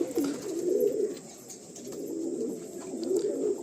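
Pigeons cooing inside a large pigeon loft housing around a hundred birds, soft low throaty coos rising and falling in overlapping waves, fairly close and steady, with no talking.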